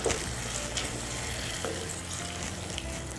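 A pot of Tamil-style vegetable and dry fish curry simmers with a steady, soft bubbling sizzle close by, continuous and even throughout with no voices.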